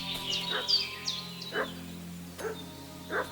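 A dog barks repeatedly at a moderate distance in the video game Kingdom Come: Deliverance 2, sharp yips spaced out over a low steady hum, with no voices.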